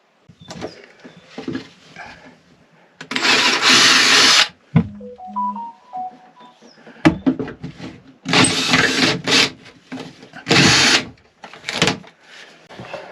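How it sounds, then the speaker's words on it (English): Bursts of a loud power drill whirring on and off in short runs while drilling a hole in a trailer sailboat, separated by pauses with clunks and a brief electronic beeping tone. "I think I'm going to drill a hole"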